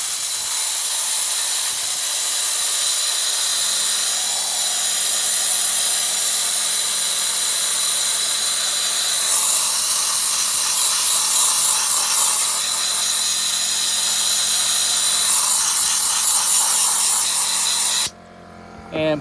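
A pneumatic spark plug cleaner blasts a Seadoo two-stroke spark plug, giving a steady, loud hiss of air and grit with a low mechanical hum underneath, running nearly continuously before cutting off abruptly near the end.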